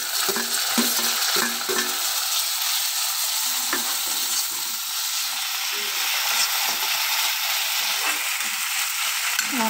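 Chopped tomato going into browned onions in a hot pan, a loud continuous sizzle and frying hiss with spoon scrapes and stirring clatter close up, no talking.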